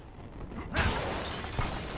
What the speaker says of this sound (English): I don't mind smashing a window.